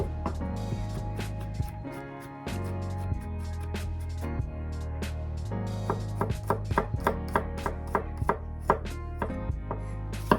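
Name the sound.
chopping garlic cloves with a knife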